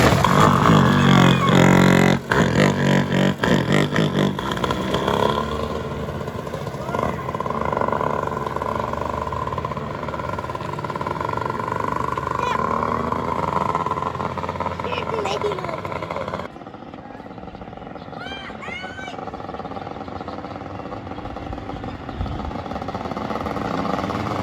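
A dirt bike engine on a downhill slope fires up with loud, rapid pops and settles into a buzzing, revving run that continues throughout, while people shout and talk over it.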